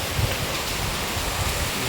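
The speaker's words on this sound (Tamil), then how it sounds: "இப்போ எவ்வளோ மழை பெய்யுதுன்னு பாருங்கள்" Heavy rain falls on an area where water is pooling and rising, a steady, dense hiss with no voices.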